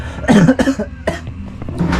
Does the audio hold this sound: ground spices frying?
no